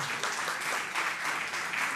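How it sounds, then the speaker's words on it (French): Brief, moderately distant applause from an audience at a corruption-themed contest event, a steady patter of many hands clapping with no voices over it. "On applaudit encore très fort"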